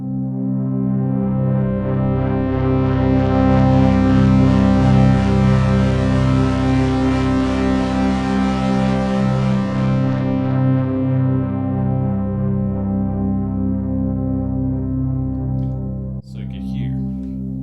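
Synthesizer patch with a filter envelope that opens to a brighter tone and then decays back to a warmer, darker sound, a loud sustained buzzy tone fading in brightness, with a brief vocal sound near the end.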